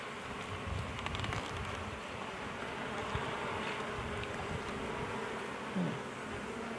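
Honey bees swarm and buzz around an open backyard hive during a hive inspection, a steady dense drone filling the air close by with no talking.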